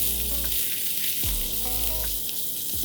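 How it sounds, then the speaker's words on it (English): Onions sautéing with ginger garlic paste in a hot pan, giving a steady, loud sizzle with a few clinks and scrapes of a spoon, with no talk. "Saute this for a few seconds."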